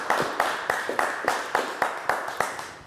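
A small audience claps for a singer at a live music corner of a French entertainment show, about a dozen sharp, evenly spaced claps sounding close and sparse, more like one or two people clapping than full applause.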